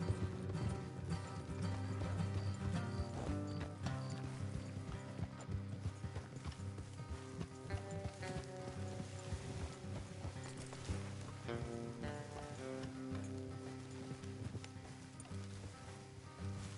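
In Red Dead Redemption 2, horse hooves clip-clop in a steady rhythm alongside creaking, rattling mechanical noises, moderately loud and continuous, with an occasional faint whinny.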